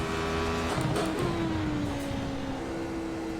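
Radical SR8 race car engine in the iRacing sim, a loud steady drone with a falling pitch as the car brakes hard and downshifts for a right-hand corner, no talking.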